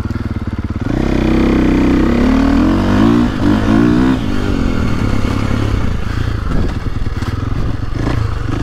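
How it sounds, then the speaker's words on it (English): A loud, close KTM 450 SX-F four-stroke dirt bike, rated at 60 horsepower, is ridden on a woods loop in map one with traction control on. Its engine revs up and rolls on smoothly, with scrapes and clatter from the trail. "This KTM 450 engine is so controllable."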